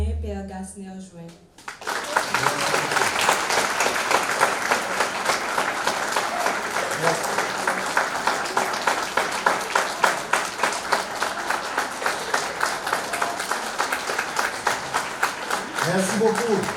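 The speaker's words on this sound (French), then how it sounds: "Nous allons demander au public d'applaudir notre doyen, Père Gasner-Join." Audience at a graduation ceremony breaking into sustained applause, many hands clapping steadily for about fifteen seconds after a brief spoken introduction, with a voice returning at the end.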